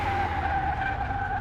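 Continuous tyre squeal from a spinning, skidding car in Car Mechanic 2021, an editor-built atomic-powered car at extreme speed, a steady loud screech with engine drone underneath and no voices.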